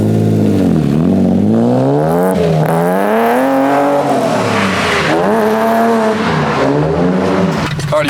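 An S52-swapped BMW E30 fitted with individual throttle bodies drives off, heard loud and close from inside. The engine note climbs and falls through several revs and gear changes, with a raspy intake tone.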